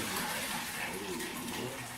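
Chicken tortellini soup being strained into a pot, a steady rushing pour of liquid, close and continuous throughout, without talk.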